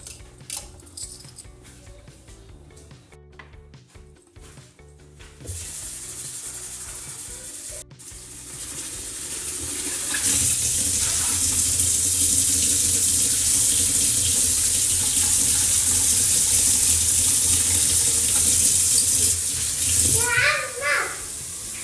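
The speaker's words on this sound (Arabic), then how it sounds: "غسلت الفاصوليا من المي الوسخة." Tap water runs steadily into a sink while white beans are rinsed, a loud continuous rushing with clinks and rustles, after some quieter handling sounds.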